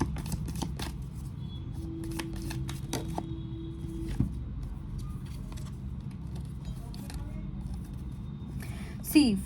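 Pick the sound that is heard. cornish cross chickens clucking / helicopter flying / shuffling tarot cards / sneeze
shuffling tarot cards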